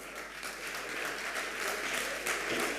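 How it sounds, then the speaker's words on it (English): An audience at a junior high school science and maths quiz semifinal gives steady, sustained applause: many hands clapping in a dense wash from a room crowd, with no speech. "Give them a round of applause."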